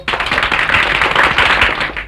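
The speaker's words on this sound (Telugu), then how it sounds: "పిల్లలు చప్పట్లు కొట్టండి." A group of children clapping their hands together in a dense, steady burst of applause that stays loud and close for about two seconds.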